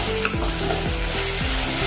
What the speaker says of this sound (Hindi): इसको भी हम भूनेंगे थोड़ा देर।